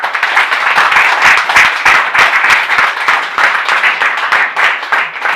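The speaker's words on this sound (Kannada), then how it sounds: "ಒಂದ್ಸಲಿ ಜೋರಾಗಿ ಚಪ್ಪಾಳೆ ಬೇಡವಾ?" An audience at a spiritual talk claps loudly and continuously, a dense close burst of applause that stays strong for several seconds.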